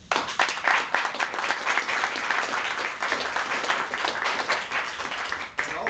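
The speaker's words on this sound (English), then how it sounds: "So one last round of applause." Audience applause in a room at a dissertation defense, a burst of many hands clapping that swells quickly and stays fairly full before thinning slightly toward the end.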